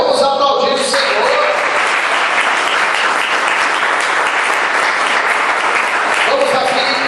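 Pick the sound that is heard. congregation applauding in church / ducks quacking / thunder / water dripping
congregation applauding in church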